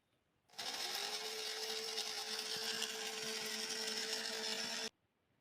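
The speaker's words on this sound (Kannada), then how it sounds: "ಹುರ್ಕೊಂಡು ಮಿಕ್ಸಿ ಜಾರಿಗೆ ಹಾಕಿ ಸರಿಯಾಗಿ ರುಬ್ಕೋಬೇಕ್ರಿ" A mixer grinder runs in a short burst, grinding spices for a goat head meat dish. It starts abruptly into a loud, steady whirring whine, holds for about four seconds and then cuts off to near silence.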